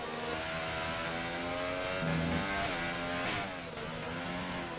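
Formula 1 car in the F1 2018 racing game at the Australian Grand Prix, its high-pitched engine screaming loud and close as it sweeps past across the line, pitch shifting with gear changes over a constant roar.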